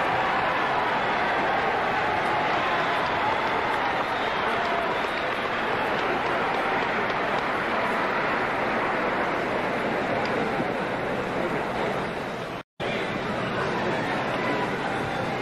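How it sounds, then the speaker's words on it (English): Noisy crowd at a 1959 heavyweight boxing bout applauding between rounds, a dense, sustained wash of clapping and murmur filling the arena, with one brief dropout near the end. "It's a noisy crowd. They're applauding."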